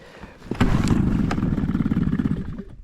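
A Suzuki outboard boat motor that had not been started for a year and a half sputters and catches, settling into a loud, close, rough running rattle that fades slightly at the end.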